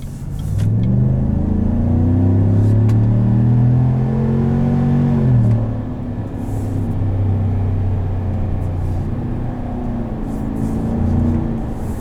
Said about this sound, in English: with the amount of burbles, I think it's a catback.